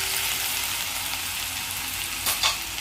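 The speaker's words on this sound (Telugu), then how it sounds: "శనగపప్పు కొంచెం ఫ్రై అవ్వాలి." Chana dal fries in hot oil for semiya upma with a dense, steady sizzle and hiss, broken near the end by a couple of quick stirring scrapes.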